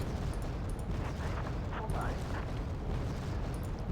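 Mortar fire and explosions rumble from a Wargame Red Dragon battle, a dense continuous barrage of low booms and crackling blasts at steady loudness throughout, with a voice talking over it.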